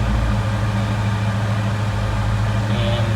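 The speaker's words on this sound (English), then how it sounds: "You can hear the AC cycling out." A 1965 Ford Ranchero engine idles on a hot day with the air conditioning cycling, giving a steady low rumble and hum that holds constant with no talk over it.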